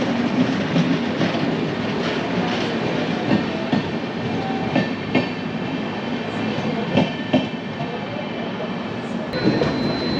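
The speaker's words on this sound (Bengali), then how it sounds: "তো এখন আমাদের ট্রেন হচ্ছে বিহারের গয়া জংশনে ঢুকছে" A passenger train rolls into Gaya Junction station in Bihar with a loud, continuous rumble heard from inside a carriage. Rhythmic wheel clicks run through it and there is a faint squeal near the end.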